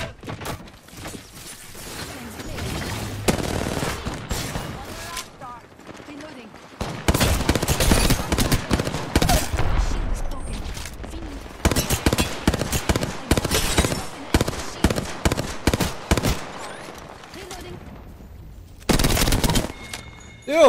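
Bursts of Hemlock rifle gunfire in an Apex Legends match, loud rapid volleys coming in clusters with short gaps between them, and a player talking over parts of it.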